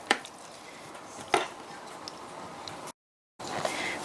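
Vietnamese spaghetti squash salad with shrimp and pork being tossed in a bowl, with soft clinks and scrapes of utensils, two sharper knocks, then a brief silence before the mixing resumes.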